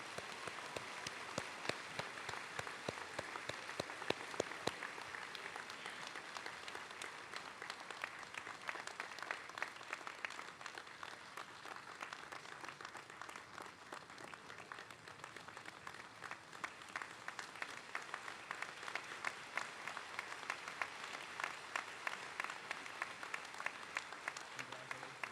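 Long, steady applause from a large crowd at a high school graduation ceremony, quiet and distant-sounding, with a constant patter of many hands like rain that carries on evenly for the whole stretch.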